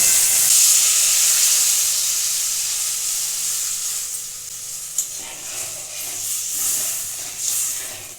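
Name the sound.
water poured into frying spice paste, sizzling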